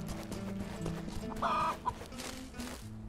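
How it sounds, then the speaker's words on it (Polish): A chicken clucks briefly amid the background music and ambience of the Robin Hood: Sherwood Builders village game, one short burst near the middle of the clip. "A, biega tu sobie kurczak jeden,"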